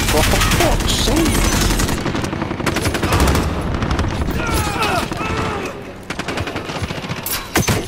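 Gunfire in a Call of Duty Modern Warfare match, loud rapid automatic bursts that keep going nearly nonstop, then break into a few separate shots as a player talks over them.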